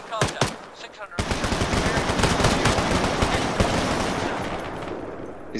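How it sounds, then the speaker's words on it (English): In the military shooter Arma, guns fire through weatherboard houses: a few sharp shots open, then sustained loud automatic fire rattles on without pause and slowly eases toward the end. Faint voices may sit underneath. "Should just be able to shoot holes through them."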